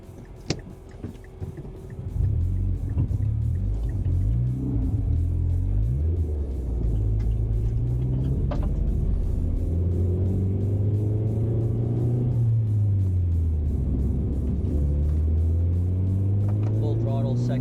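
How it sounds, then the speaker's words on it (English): A 2008 Mazda3 2.3L hatchback runs at full throttle from about 2000 rpm to the rev limit. The engine drones up steadily, eases back and climbs again, and voices are heard early on. "2 consecutive full throttle accelerations from 2000 RPM to rev limit"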